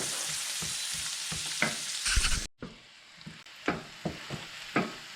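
Pork ribs fry and sizzle in a pan with onions, browning to golden, with a steady broadband sizzle broken by a brief gap and repeated stirring scrapes and clicks close by.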